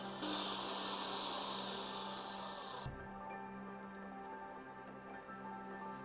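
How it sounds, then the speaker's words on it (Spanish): A power drill bores through the centre of a plastic cap, a close whining buzz that runs for a few seconds then cuts off, leaving a low hum. "Taladraremos el tapón justo en el centro."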